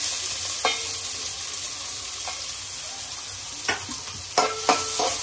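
Onions frying in about three spoons of oil in a cooking pot, a steady close sizzle with a few sharp scraping stirs and clinks near the end, no voices.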